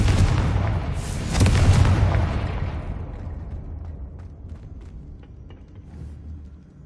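A Confringo fire spell blast in Hogwarts Legacy: a loud explosive boom with a second burst, trailing into a long rumbling decay and low background hum.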